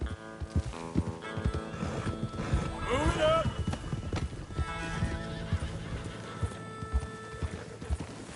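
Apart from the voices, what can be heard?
horses neighing and hooves clopping in Red Dead Redemption 2 video game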